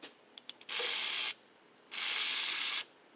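Two hissing bursts of WD-40 aerosol sprayed onto a seal during work on a Craftsman DYS4500 mower with a Briggs V-twin, each about a second long and close, with a few small clicks before them.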